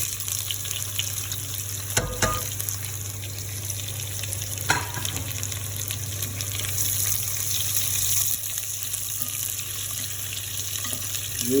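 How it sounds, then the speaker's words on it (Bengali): Chopped onions hit hot oil with cumin for an egg curry, sizzling and hissing steadily throughout, with a couple of brief stirring knocks from a utensil in the pan. "জিরেটা গরম হয়ে গেলে পেঁয়াজ যেটা কাটা আছে ওটা"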